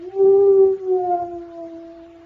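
A dog howls in one long, mournful, wavering note that slowly fades, alone and fairly close, as an old-time radio sound effect.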